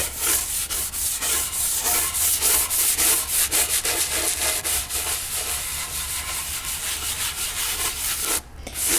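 Wax is rubbed off a wooden table in circular motions, making a continuous close, loud scrubbing and rubbing hiss with quick rhythmic strokes and no talking.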